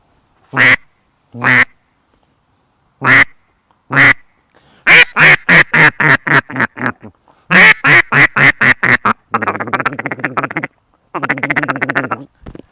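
A rapid series of loud, nasal quacks comes in bursts, some single and some in quick runs, followed by raspier chattering calls.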